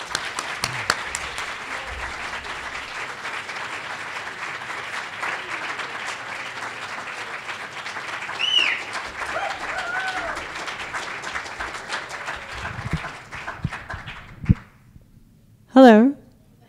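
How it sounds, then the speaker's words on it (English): Warm applause from a literary translation reading audience fills the room steadily for about fourteen seconds at moderate distance, then fades out, followed by a brief louder sound near the end. "So please join me in giving them a warm round of welcoming applause."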